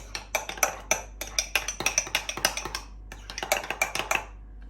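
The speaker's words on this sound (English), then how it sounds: "simply mix your lemon juice and your KFC blend into your mayonnaise" Lemon juice and KFC-style spice blend mixed into mayonnaise in a bowl, a utensil clinking and scraping against the dish in quick irregular bursts, close and fairly quiet with no talking.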